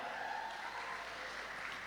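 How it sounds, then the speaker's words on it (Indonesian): Crowd applause at a lively Indonesian stage event promoting small local businesses (UMKM), a steady, even wash of clapping that lasts the whole moment without a break and sounds moderately distant and fairly soft. "boleh saya minta sekali lagi dong tepuk tangan yang meriah."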